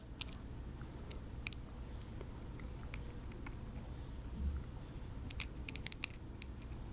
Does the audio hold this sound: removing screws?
yes